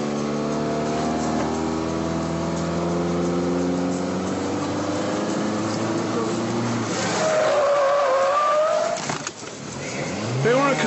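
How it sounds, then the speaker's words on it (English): A car is driven fast in reverse and then spun round, its engine whining and rising in pitch before the tires squeal loudly through the turn, close and clear. "Now step on it and drive backwards. Then you spin the wheel to the left."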